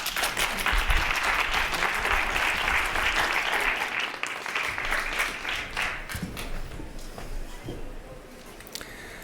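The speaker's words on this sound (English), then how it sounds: "20 seconds of applause will happen right now." An audience at a transportation policy talk breaks into sustained applause, a steady wash of many hands clapping at even loudness for most of the stretch before gradually tapering off toward the end.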